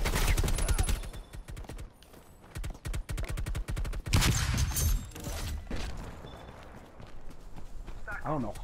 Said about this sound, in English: What the heck is shooting?